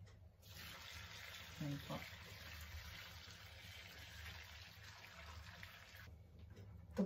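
Boiling water is poured onto bracken (warabi) ferns from a home mini farm, making a steady close splashing stream for several seconds, and someone speaks briefly.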